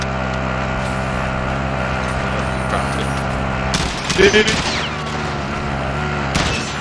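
Bursts of automatic gunfire from a Call of Duty: Warzone match, loud and layered over a steady vehicle engine drone, with a dense flurry of shots in the middle.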